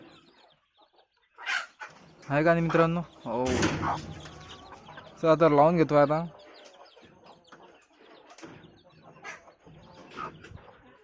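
Hens in a pen on a goat farm cluck in a few loud bursts close by, with someone talking between and over the calls.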